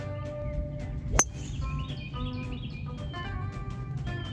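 Small birds chirp outdoors on a golf course, a bright sharp call near the start followed by a steady chatter of short tweets over a low background rumble.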